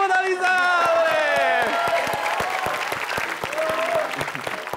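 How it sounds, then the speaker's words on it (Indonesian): An Indonesian dating-show studio audience claps loudly, with cheering and whoops rising above the clapping, close and sustained throughout. "Tepuk tangan Lisa."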